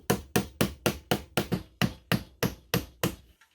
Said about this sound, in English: Now I'm going to add 2 nails